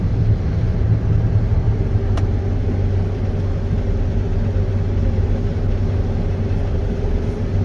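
A harvester engine holds a steady, loud, low rumbling drone throughout, close by and with no one talking.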